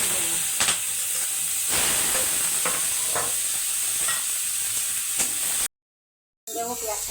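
Cumin seeds, bay leaf, whole garam masala and chopped onion fry in hot oil for a potato and mutton curry, giving a steady close sizzle and hiss with occasional stirring clicks, then a brief gap of silence near the end.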